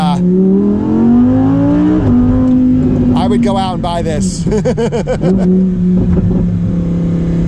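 A Lamborghini Huracán Performante engine revs and shifts through gears, pitch climbing and dropping, while someone talks briefly over it.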